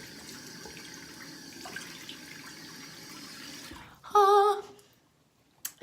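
Cold water runs steadily from a bathroom tap for about four seconds, then it is shut off, followed by a brief loud squeaky rush and a few handling knocks near the end.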